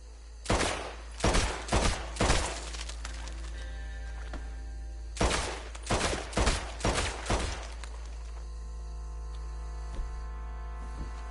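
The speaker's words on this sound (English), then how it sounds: "Why are you shooting at thin air?" Gunfire in a Red Dead–style PS4 western game: two clustered bursts of four or five sharp shots each, around half a second and five seconds in, followed by a single faint shot later, over a steady low hum.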